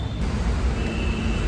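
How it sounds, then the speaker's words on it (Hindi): A car approaches along a road, a broadband engine and tyre rumble holding steady and moderately loud throughout, without voices. "हमारी गाड़ी आ रही है"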